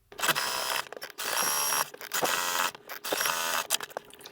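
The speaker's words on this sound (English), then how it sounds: "I'm just going to sew right along that to tack it down" Sewing machine stitching along a pressed, double-folded fabric hem, heard up close as a rapid whirring mechanical buzz in four bursts separated by short pauses.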